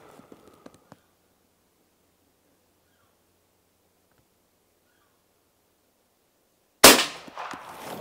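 A single loud, sharp shot from a suppressed De Lisle carbine firing a 185 grain bullet cracks out after several seconds of near silence, with a few faint clicks and handling noises before it.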